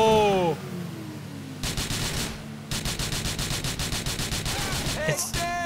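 Gunfire in the video game GTA 4: after a brief voice, rapid automatic bursts rattle out in a fast steady rhythm, fairly loud and sustained, with a short gap between volleys.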